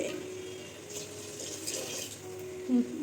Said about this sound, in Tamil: தண்ணி ஊற்றி மிக்ஸ் பண்ணிவிட்டு கலந்து விட்டுக்கலாம்